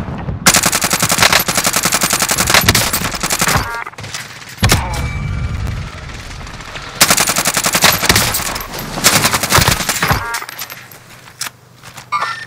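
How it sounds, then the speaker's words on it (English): Automatic gunfire in Call of Duty Warzone on Rebirth Island, long loud bursts of rapid shots broken by short pauses and thuds, close and dominating the mix. "Taking fire here."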